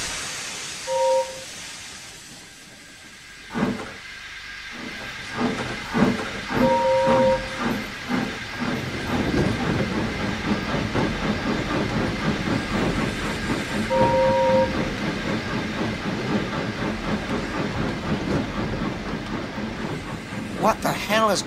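A steam locomotive engine in a game recreation rumbles and hisses steadily, with a few short whistle toots near the start and middle, over continuous mechanical chuffing noise.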